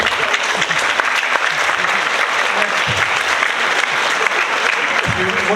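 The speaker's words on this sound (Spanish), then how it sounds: "Un aplauso para el compañero, por favor" Sustained audience applause at a lecture, a dense steady wash of many hands clapping for a speaker, filling the room throughout.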